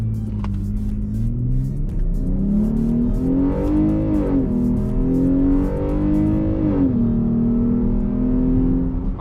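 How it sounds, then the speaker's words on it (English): V6 Jeep launching from a standstill, engine droning loud and close as it pulls up through the revs and shifts once, then climbs again under steady road and wind noise. "we're gonna go foot on the brake, and then we're gonna rev it up"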